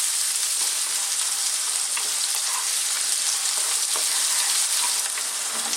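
Onions frying over medium heat in a pan, a loud, dense and continuous sizzle close by with faint stirring scrapes mixed in, no voices.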